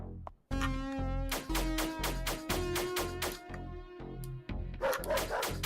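Dog barks from the Paradox Soul video game, a rapid run of loud, close, harmonic yips and woofs in quick succession with no talk over them, ending in a brief noisy scuffle.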